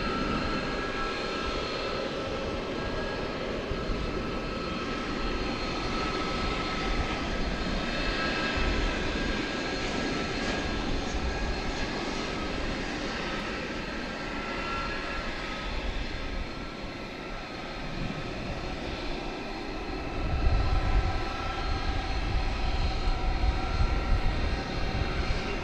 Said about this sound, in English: Flight coming in, American Flight 2669 from Santa Ana